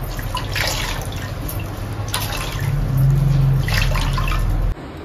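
Items being washed with water carried over by hand, a steady splashing and dribbling wash of water with soft drips, close and fairly loud, with no talk.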